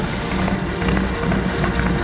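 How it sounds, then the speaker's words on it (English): A helicopter engine idles at a steady, loud, even drone that holds without a break and has no talk over it. "Oh my gosh, it's idling. Dude, it's running!"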